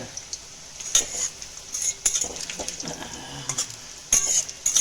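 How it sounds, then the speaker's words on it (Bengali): Pakoras frying in hot oil for Bengali jhal muri, a soft steady sizzle beneath scattered clinks and scrapes of a utensil against the pan, with several louder stirring bursts spread through the stretch. "তেলের মধ্যে গরম গরম পকোড়ি ভাজা"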